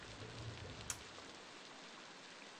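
Rainstorm in the game Beasts of Bermuda, a faint steady hiss of falling rain with one brief sharp tap near the start, quiet and unbroken.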